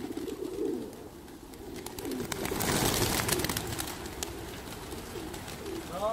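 Pigeons cooing inside a pigeon loft, soft repeated low coos from several birds close by, with rustling and a burst of wing flutter midway, and a brief chirp near the end.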